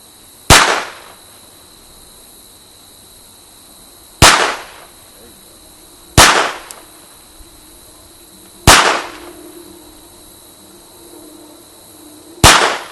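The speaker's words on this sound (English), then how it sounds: "do 5 rounds at 12 yards with the Walther" A Walther P22 pistol fires five single shots at a shooting range, each sharp crack followed by a short echo tail, spaced about two seconds apart, with no talk between them.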